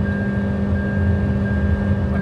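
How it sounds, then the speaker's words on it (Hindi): Steady cabin drone inside a Toyota Innova Hycross hybrid cruising at high speed, around 140 km/h, with a constant low rumble of road and wind noise, loud and unbroken, with no voices. "बट भाई ये बहुत ज्यादा आवाज मचाता है, बहुत ज्यादा शोर मचाता है"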